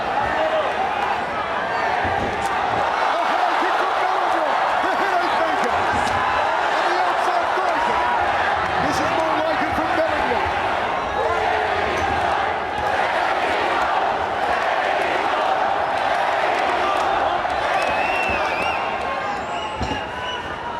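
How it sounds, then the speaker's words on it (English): A steady, loud crowd roars throughout a mixed martial arts bout between Kevin Belingon and Bibiano Fernandes, with a commentator talking over the noise. "The crowd roars again as Belingon came close to the punch."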